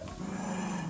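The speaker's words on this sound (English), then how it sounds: "And my dogs are growling." Pet dogs growl together in a single sustained low rumbling growl, close and fairly loud, with no talking over it.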